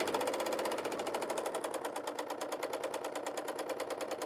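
Bernina L890 serger gathering a fabric strip at a high differential setting: a fast, steady mechanical hum with rapid stitch pulsing, close and loud, running without pause and with no voices.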